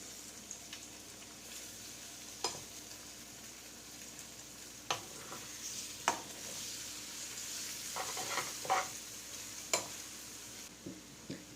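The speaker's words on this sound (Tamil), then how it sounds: "முட்டை பொரிய ஆரம்பிக்கும்போது நம்ம லைட்டாக அந்த மாதிரி கலந்து விட்டுக்கலாம்" Egg frying in a pan with a little salt, stirred lightly as it sets: a steady soft sizzle runs throughout, broken by occasional sharp scrapes and taps of a spatula.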